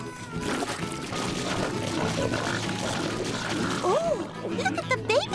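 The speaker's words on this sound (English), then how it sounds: "We just pour the slop into their trough." Slop pours into a pig trough in a Mickey Mouse farm cartoon, a sloshing, gloppy pour under busy background music, ending in a couple of cartoonish squealing slide sounds.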